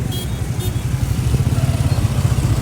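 A motorcycle engine putters along in a rapid, uneven low throb while riding, close and fairly loud, with a couple of brief high tones early on.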